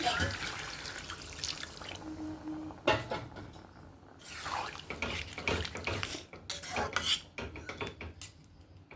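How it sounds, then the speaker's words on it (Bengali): Water pours into a cooking pot for a fish curry with eggplant, splashing in bursts alongside clinks of pots and utensils in a home kitchen, with a voice speaking over parts of it. "তো পানিটা আবার অ্যাড করে দিচ্ছি।"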